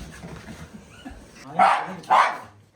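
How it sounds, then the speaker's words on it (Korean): A small dog gives two sharp, high barks close by, spaced about half a second apart, after a stretch of low murmuring and rustling, with faint voices in the background. "왜 짖고 그래?"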